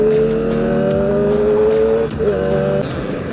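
A Kawasaki ZX25RR four-cylinder motorcycle engine roars close and loud on a test ride, holding a high, smooth revving drone that briefly dips and climbs again.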